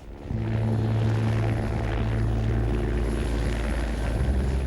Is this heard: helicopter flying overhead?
yes